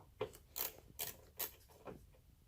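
Bolts being loosened and removed from the air cleaner box of a 2007 BMW 323 with a 10mm tool: several short metallic clicks and ratcheting clinks at irregular intervals, close up and moderately quiet.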